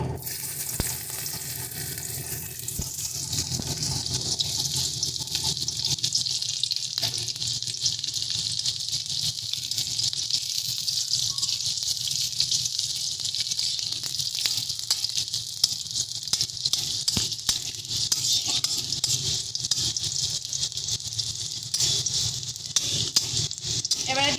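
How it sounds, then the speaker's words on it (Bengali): Chopped onions fry in hot oil for a Bengali dish of jackfruit seeds and dried lote fish, giving a steady, close hiss and crackling sizzle with occasional stirring rattles throughout. "তেল গরম হয়ে গেছে দিয়ে দিচ্ছি পেঁয়াজ কুচি"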